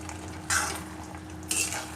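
Fried okra tipped into a pan of bubbling onion-tomato masala, giving two short bursts of sizzle and scraping about a second apart, close by with no talk.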